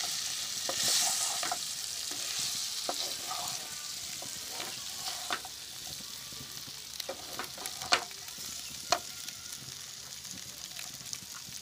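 Potatoes are stirred through a sizzling pan for a spicy dry cumin aloo masala, with a constant frying hiss and irregular scrapes and taps of the spoon against the pan, fairly quiet and continuous.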